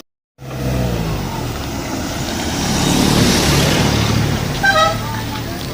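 Car crossing a bridge at a forgotten village on Ross Isle in St Thomas, Jamaica, a steady loud road rumble that swells toward the middle, with a short horn toot near the end.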